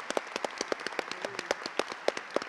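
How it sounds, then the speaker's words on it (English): Audience at a film festival preview night applauding a team of festival volunteers, sharp separate claps spread through the room, fairly quiet and loosening toward the end. "And now please applaud this whole team of about 25 people."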